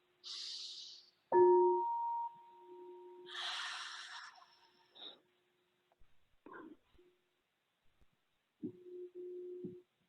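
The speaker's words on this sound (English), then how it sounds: "and exhale. Last time, deep breath in." Close, quiet breaths during a guided breathing exercise: a deep airy inhale and a long exhale, separated by short voiced sounds and stretches of near silence.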